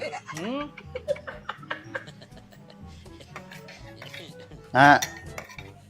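Plates and dishes clink and clatter intermittently, with a sharp loud crash of crockery near the end, while people talk nearby.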